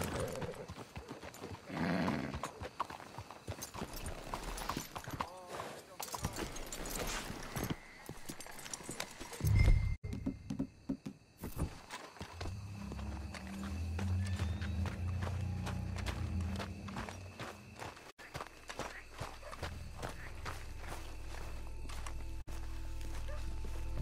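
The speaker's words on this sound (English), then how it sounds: "Let's hitch your horses up ahead." Horses walking in the Red Dead Redemption 2 video game, with steady clip-clop hoofbeats under ambient game sound and a low rumble that goes on throughout, at a moderate distance.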